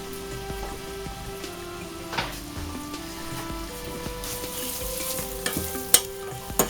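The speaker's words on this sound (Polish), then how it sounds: "Do tego dodamy jeszcze por i smażymy to aż cebula nam się zeszkli, a por zmięknie." Onion and leek sizzle in butter in a pan with a soft, crackling hiss, while a utensil stirs and scrapes now and then, with a few sharper clicks near the end.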